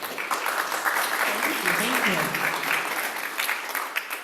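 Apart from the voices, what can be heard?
audience applause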